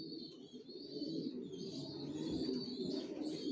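Racing pigeons coo softly and continuously in a loft, low throaty murmurs with faint chirps above, moderately near and without talk.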